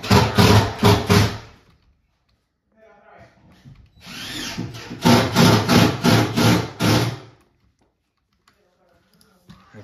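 Power drills running in a KFC restroom in the video game Roblox, with loud bursts of rapid repeated whirring in two clusters separated by a short quiet gap, and a voice talking between them.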